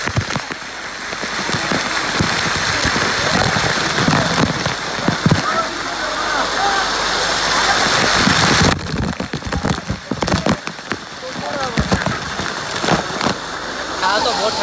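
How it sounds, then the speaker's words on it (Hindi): Heavy rain pattering and splashing all around at Sunway Lagoon water park, loud and continuous, with a brief drop in intensity partway through and some voices mixed in. "बारिश हो रही है यार।"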